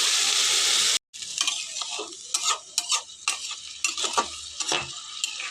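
A little water hits Mourala fish frying in oil for a loud, harsh sizzle lasting about a second. It cuts off abruptly, followed by scattered clinks and scraping of stirring in the pan.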